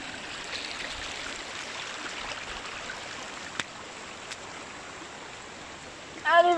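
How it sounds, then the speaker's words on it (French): A fast-flowing stream in green countryside rushes steadily and evenly at close range, and a voice briefly starts up at the very end. "de l'eau qui coule fort"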